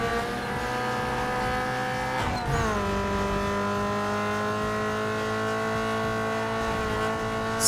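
Race car engine in Need for Speed Underground 2 held at full throttle, a steady loud drone of stacked harmonics with a brief dip and pitch shift partway through, then sustained high revs to the end.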